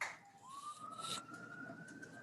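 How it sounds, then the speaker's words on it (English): A police siren sounds outside, off Scott Boulevard in Atlanta, as a faint distant wail that rises and then holds steady. "I heard police sirens."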